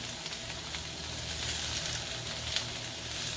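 Red cabbage caramelizing in a pan, a steady close sizzle and fry with faint scraping as it is gently lifted and moved around, no voices.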